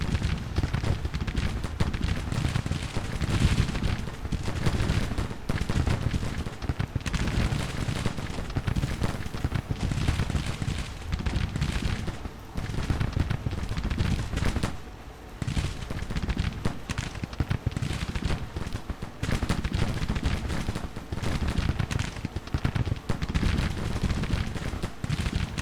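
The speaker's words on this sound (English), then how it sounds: "Yep, and I forgot about the Williams guns. Come over this way. Fire down the line." Williams rapid-fire guns firing volleys down the line in a Grand Tactician: The Civil War battle, with dense, continuous crackling gunfire and booms filling the scene, loud and steady throughout with only brief dips.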